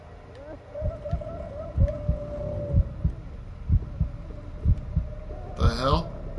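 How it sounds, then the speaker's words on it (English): A slow, steady heartbeat thumps in the video game Call of Cthulhu, low muffled beats repeating under a droning hum, with a brief sharper rattling burst near the end. "You hear heartbeats"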